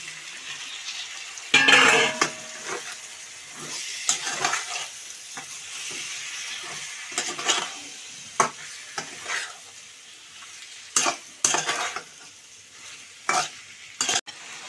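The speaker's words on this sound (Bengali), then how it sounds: "এর সাথে আমি ফুলকোটাও দিয়ে দিচ্ছি।" Goat fulko frying in a pan with chili and cumin powder while being stirred: a soft, continuous sizzle under irregular scraping strokes and clinks of the spoon against the pan, close by.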